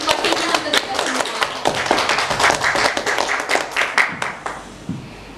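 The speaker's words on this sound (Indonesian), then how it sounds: "Tepuk tangan dulu" An audience claps in a podcast studio at an Indonesian talk-show event, a dense burst of many hands that carries on for several seconds before thinning out and fading.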